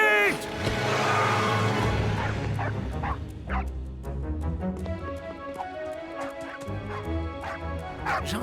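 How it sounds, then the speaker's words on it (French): A cartoon dog in a French children's animated show yips and whimpers repeatedly over music and background sound, with short high cries and a few barks recurring throughout. "Gentil, le chien."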